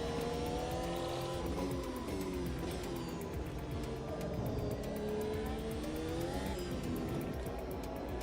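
A race car in AMS2, driven a little steadier through corners to cool its tyres, holds a loud continuous engine note that rises and falls with shifts and revs, alongside faint tyre noise, with no talking.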